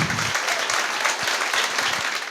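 A crowd claps steadily and warmly, a dense even wash of applause with no voices standing out, at a literary festival panel.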